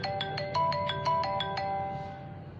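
An iPhone ringtone from the iRingtones app plays a bright chiming melody of about nine evenly spaced plucked notes over a constant background hum, then lets its last tone ring out and fade.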